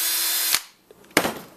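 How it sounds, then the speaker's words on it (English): A power drill whirs steadily, stops abruptly, then starts again in a short rough burst after a brief pause. "Really big drill that barely does anything."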